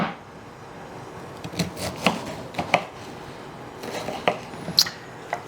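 Onion is chopped with a knife in a home kitchen, a handful of sharp, uneven taps on a cutting board, quiet and close, with faint hiss in the gaps and no talk.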